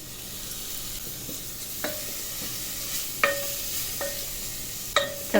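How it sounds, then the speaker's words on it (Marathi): Finely chopped tomatoes fry in oil for a potato and cluster bean bhaji, a constant soft sizzle punctuated by four or five sharp ladle knocks against the pan as they are stirred, close by and with no talking. "चांगलं तेलात टोमॅटो भाजलं पाहिजे"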